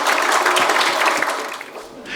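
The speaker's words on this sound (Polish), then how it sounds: "Wielkie brawa, gratulacje." An audience applauds two student award winners at a school competition, a loud, dense burst of clapping that fades over about two seconds.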